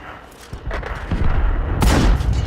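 Bassotto tank's gun firing in a tank video game, with a loud booming blast preceded by lighter thuds and rumble, the main shot heavy and close near the end.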